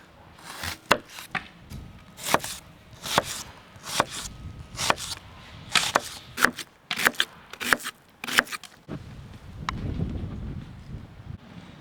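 A knife dices an onion on a cutting board, a series of sharp, close taps in uneven bursts, with some wind rumble toward the end.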